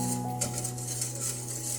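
Soft scraping and light clinks of a utensil stirring coconut milk in a pot, brought to a boil over a low, steady background hum.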